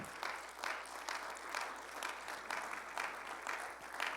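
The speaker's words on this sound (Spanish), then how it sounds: "¿Puedo dar un aplauso de agradecimiento al Señor?" A church congregation claps in thanks during a Spanish-language service, a faint, steady patter of applause heard from a distance with gentle pulses throughout.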